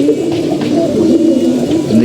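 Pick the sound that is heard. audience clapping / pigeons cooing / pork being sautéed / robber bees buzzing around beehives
pigeons cooing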